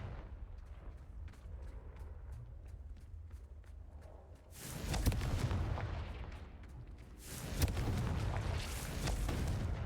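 Blasting and explosive spells going off in the Hogwarts Legacy video game: two loud, sustained broadband blasts burst out after a quieter rumbling stretch, each followed by crackling roar, with no talk.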